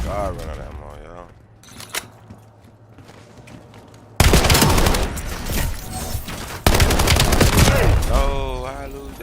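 Bursts of automatic gunfire in the shooter game Warzone, quieter and sparse at first, then abruptly loud, dense volleys that continue to the end, with a player talking over the shooting.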